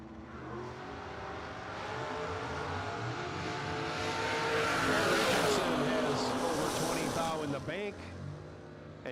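Drag cars, including a Camaro Roadster, launch and roar down the strip at a bracket race, engines building from a rumble to a loud howl and then fading, with a track announcer talking over them.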